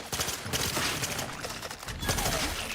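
Sustained gunfire in the video game Outer Worlds 2, a loud continuous spray of rapid shots filling the whole moment without a break.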